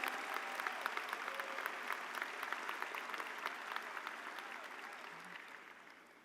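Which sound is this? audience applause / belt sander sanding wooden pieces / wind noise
audience applause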